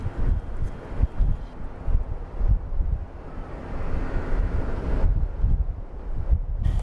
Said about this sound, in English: It is windy, it is stormy